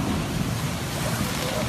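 Strong gale-force wind buffets a harbour where fishing boats are moored, a steady, loud, broadband roar with rumbling gusts and microphone wind buffeting throughout, no pauses.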